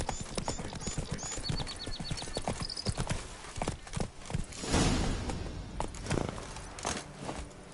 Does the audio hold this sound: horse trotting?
yes